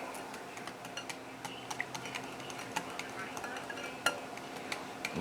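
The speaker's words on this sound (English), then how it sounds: "And let's get that whisked together." A whisk beats a milk mixture with two cups of milk in a bowl, producing rapid, light metallic ticks and clinks that patter continuously at close range, with a few louder knocks.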